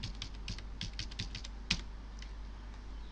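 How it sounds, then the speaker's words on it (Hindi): Quiet, quick keystrokes on a computer keyboard as a place name is typed into a search box, a short burst of clicks over a constant low hum. "तो यहाँ पर आप हिंदी में या इंग्लिश में आगरा या ताजमहल टाइप करेंगे"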